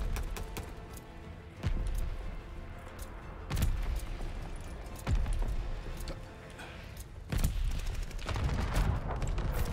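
Gunfire in the Call of Duty Vanguard video game: several sharp bursts of shots crack out at irregular intervals over a steady in-game din, loud and close, with no talking.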